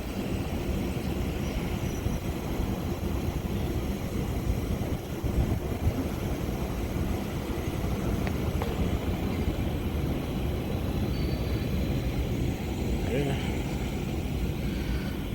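A car heater blower motor and compressor run in a heating system with a no-heat fault and a blower motor shorted to ground, giving a steady, close, low droning whir that holds at an even level throughout with no breaks.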